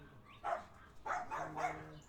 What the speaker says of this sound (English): And my dog's going nuts again.